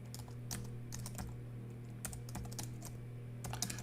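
Keys clatter on a computer keyboard in quick irregular bursts of clicks, quiet and close, over a low steady electrical hum.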